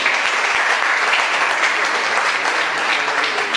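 Audience at a conference on the Sicilian song Vitti na crozza breaks into sustained applause, a dense, even wash of clapping from many hands that holds steady for several seconds without voices.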